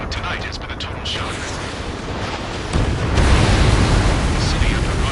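Rumbling gunfire and explosions from the Ace Combat 7 video game, a dense continuous barrage of booms that swells louder midway and stays heavy to the end.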